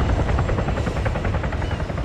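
Helicopter in the video game Arma 3 flying directly overhead, a loud continuous rotor thump and engine roar filling the whole moment with no voices.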